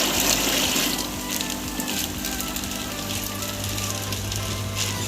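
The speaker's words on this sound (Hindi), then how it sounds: "पानी भी इधर डाल देते हैं" Water pours steadily into a container holding marine aquarium fish, a broad continuous splashing and gushing that fills the whole stretch without pause and with no talk.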